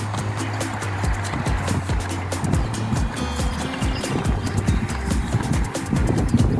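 Hooves of an Andalusian PRE horse moving from walk to canter at an international horse show, with steady rhythmic thuds close by over a low continuous background rumble.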